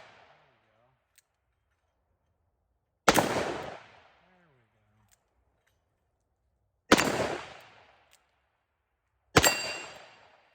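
Three loud, isolated shots from a Smith & Wesson 686 .357 Magnum revolver with a 4-inch barrel, fired at steel targets. Each sharp blast has a decaying tail and is spaced a few seconds apart, with quiet between shots.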